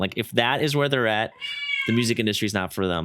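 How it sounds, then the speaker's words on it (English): A cat meows in a drawn-out, screaming cry at mid-clip, loud and close, between stretches of a person talking. "the cat was screaming"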